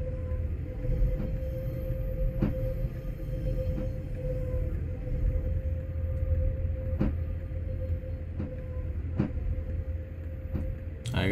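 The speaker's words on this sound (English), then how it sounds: "It sounds like an actual proper locomotive coming into the station." A British Railways locomotive in a train simulator rolls steadily into a station, a low continuous rumble with a faint steady tone and periodic soft clicks of the wheels over rail joints.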